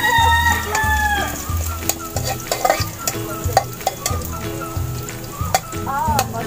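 Garlic sautés in a hot pan, a loud steady sizzle broken by repeated clacks of a utensil stirring, while a rooster crows off in the background.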